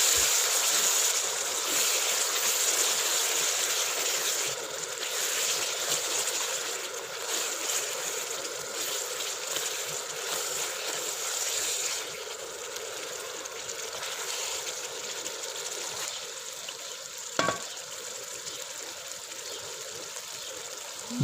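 Chicken karahi sizzles and fries in oil in a village kitchen, a continuous dense hiss and crackle that stays steady and fairly loud, with one sharp clink near the end.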